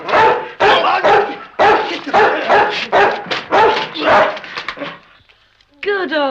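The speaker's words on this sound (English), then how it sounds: "That's a good dog." Timmy the dog barks repeatedly and loudly during a fight, with sharp yips and growling bursts packed close together, followed by a brief lull and a final yelp.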